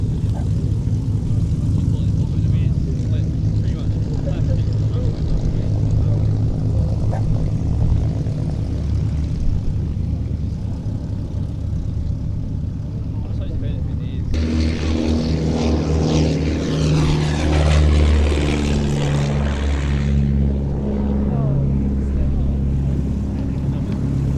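Continuous drone of a Miles propeller aircraft engine that swells and grows rougher as the plane powers up for takeoff at an airshow, with voices faintly mixed in.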